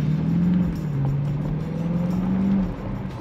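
A BMW X5M SUV drives along with a steady engine drone whose pitch rises and dips slightly as it holds speed, heard from inside the cabin at a moderate, even level.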